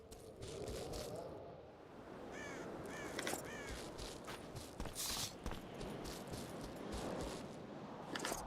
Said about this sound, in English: Look out, crows.